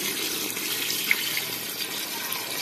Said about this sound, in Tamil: இப்போ பார்த்தா 2 கப்பு ரைஸுக்கு 4 கப்பு தண்ணி ஊற்ற போகிறேன் நான்.